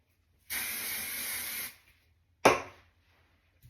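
Hairspray hisses onto a section of hair in one steady spray lasting just over a second, followed by a sharper, quicker puff that fades out, close up and with no talk.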